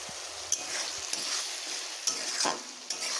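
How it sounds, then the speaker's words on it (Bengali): Ginger, garlic, chili and cumin paste with chopped tomato fries in a pan, a steady sizzle broken by a few scraping stirs of the spatula. "মশলাটাকে বেশ ভালোভাবে কষিয়ে নিচ্ছি"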